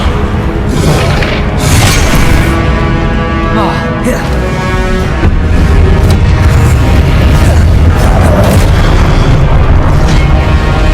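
Heavy, continuous booming blasts from Confringo and Incendio spells in Hogwarts Legacy, dense and loud throughout with crackling bursts layered over a rumbling low end, and no pause between impacts.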